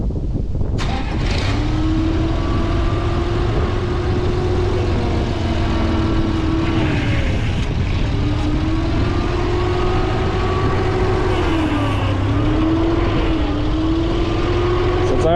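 A Farmall 460 tractor engine runs continuously at close range while grading a driveway, a steady, rumbling low droning idle with slight rises and dips in pitch throughout.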